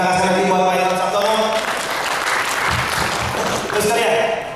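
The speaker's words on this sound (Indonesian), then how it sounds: "Berikan tepuk tangan sekali lagi buat Pak Imam Sabtono." An audience at a presentation claps together in a steady wash of applause, with musical tones and some talk over it.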